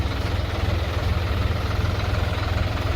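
The diesel engine of a 50-horsepower Solis RX50 tractor idles steadily, a low continuous rumble with even throbbing, close and constant throughout with no talking.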